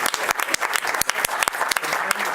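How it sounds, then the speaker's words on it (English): An audience at a Sarasota County school board meeting applauds five-star schools, a short burst of close, uneven hand claps rising into a brief round. "Please join me in giving one more round of applause, congratulating all of our 5-star schools for this awesome achievement."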